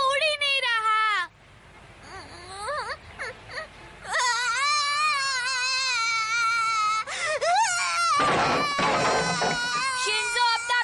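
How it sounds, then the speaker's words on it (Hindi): Cartoon character Shinzo bawls loudly in long wailing cries with rising and falling pitch, broken by short sobs and a brief quieter gap, with a burst of noisy clatter near the end. "शिंजो, अपना रोना बंद करो, मेरे कान फट रहे हैं।"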